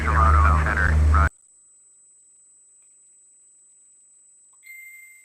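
A phone notification chimes once near the end, a clear tonal ding following a burst of radio-style air traffic chatter and a stretch of near silence.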